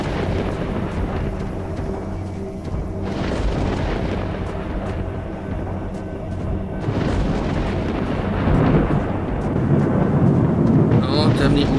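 A thunderstorm rolls over a dark valley in STALKER: Shadow of Chernobyl, with deep rumbling thunder swelling in waves and building louder toward the end, while someone talks over it at times.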